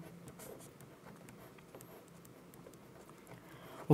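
A pen scratches across paper while a linear equation in two variables is worked out by hand, with faint, close, irregular writing strokes throughout and no talking.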